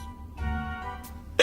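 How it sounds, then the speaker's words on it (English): A cartoon character gets a case of the hiccups, and one short hiccup sounds close up near the end. A quiet tonal background runs underneath before it. "I hate the hiccups a lot."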